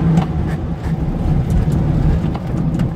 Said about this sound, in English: Make sure the exhaust is not too loud